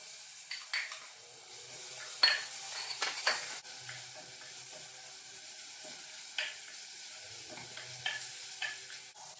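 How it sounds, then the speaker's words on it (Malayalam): Sliced onions and three large green chillies fry in oil in a pan, a soft steady sizzle broken by several sharp scrapes and clinks of a stirring spoon, close and fairly quiet, with no talk. "ഉള്ളി ഒന്ന് വാടി വരുന്ന സമയത്ത് അതിലേക്ക് ഒരു മൂന്ന് വലിയ പച്ചമുളക് എരിവുള്ളതാണ് ഈ മൂന്ന് പച്ചമുളക് കൂടെ വട്ട വരിഞ്ഞത് ഇട്ട് കൊടുക്കാം"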